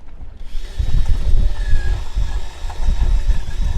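A power drill whirs in short, uneven bursts, loud and close, widening a hole in a 3D-printer part, with 30-knot wind buffeting in the background.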